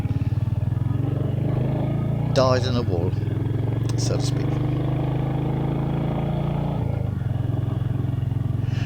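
Motorcycle engine hums steadily at cruising speed during a ride along coastal countryside roads, a constant low drone with someone talking over it and brief wind buffeting.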